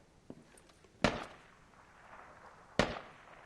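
Two sharp grenade blasts in the video game Squad, a small pop first and then two loud cracking bursts about two seconds apart, each with a short rumbling tail, no speech.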